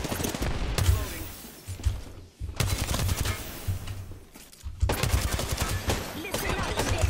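Rapid automatic gunfire in the video game Apex Legends, loud close bursts of shots in three runs separated by short pauses, with game voices present.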